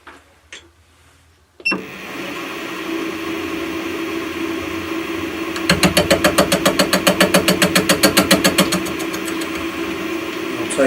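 An end mill cuts steel parts for a compact power hacksaw on a machine that runs with a steady drone, then settles into a fast, regular chattering rhythm of cutting for several seconds.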